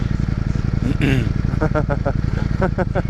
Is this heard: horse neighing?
no